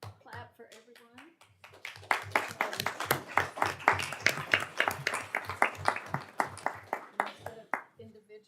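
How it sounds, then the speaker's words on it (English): Clapping at a Texas Board of Nursing board meeting: a burst of brisk, steady handclaps starting after a couple of seconds and running for several seconds, fairly close, with speech before and faint talk at the edges. "I want to clap for everyone."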